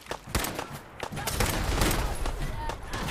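Rapid gunfire in Fallout 4, with loud repeated shots cracking in quick irregular bursts over continuous battle noise, close and dense throughout.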